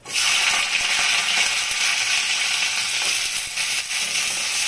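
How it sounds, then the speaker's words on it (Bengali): Bitter gourd sizzles loudly and continuously in hot oil in a pan, a dense close hiss that starts abruptly and holds steady with faint stirring beneath. "এখন আমি উচ্ছেটা ভাজবো।"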